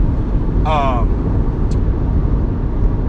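A car driving along a road, heard as a steady, loud low rumble of road and engine noise throughout, with a brief high chirp near the start.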